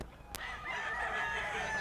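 Chickens at a poultry market at a grotto, a rooster crowing and hens clucking at moderate distance amid general market ambience, with a sharp knock near the start.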